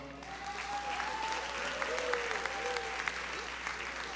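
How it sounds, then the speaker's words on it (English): A party convention crowd in Nevis applauds Hector with steady, dense clapping that fills the hall at moderate distance, a continuous wash with a few sharper claps and faint voices underneath. "Round of applause for Hector"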